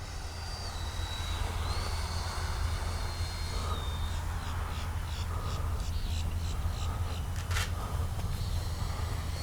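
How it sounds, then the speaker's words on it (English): Freewing F-16 70mm V3 electric RC jet coming in to land, a steady broadband ducted-fan whine and rush held at constant level throughout, with faint higher whirring pulses toward the end and no talk. "And that's how you land an F-16."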